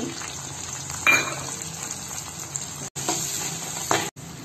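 Onions and tomato with chilli powder and turmeric frying in a pan for a Telugu fish curry, a steady close sizzle broken by louder bursts of stirring, with brief silent cuts.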